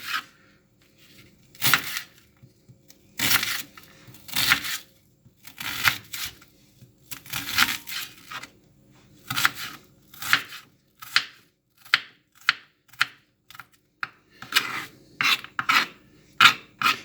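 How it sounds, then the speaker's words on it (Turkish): A knife thinly slicing onion on a cutting board, a chicken sauté dish in preparation, with bursts of quick rhythmic rasping strokes repeated close up, separated by short pauses and no talking. "ince ince soğanımızı doğruyoruz"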